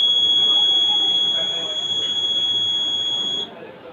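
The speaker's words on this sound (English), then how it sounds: "When earthquake happened, this alarm was buzzing like this." A homemade earthquake alarm for a school science exhibition buzzes with one loud, steady high-pitched tone that holds for several seconds, then cuts off, leaving faint background noise.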